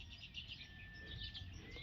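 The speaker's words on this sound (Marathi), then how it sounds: "सगळ्या चिमण्यांचा कालवा" A busy chatter of sparrows chirps steadily in the background, with overlapping high tweets and a constant low hum underneath.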